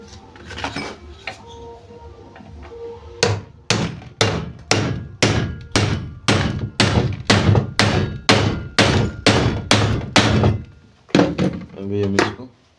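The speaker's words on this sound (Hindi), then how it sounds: "ये ऊपर से ऐसे इसमें बोल्ट मार के आपको ठोक देना है।" A hammer drives a bolt into a sewing machine in a fast, loud, evenly spaced series of about fifteen sharp metallic blows, close up, with a few more strikes after a short pause and some talk around them.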